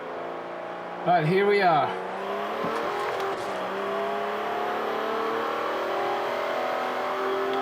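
Car engine in the racing game Forza Horizon 2 revs up and holds a loud, steady accelerating drone with rising tonal whine, and someone speaks briefly near the start.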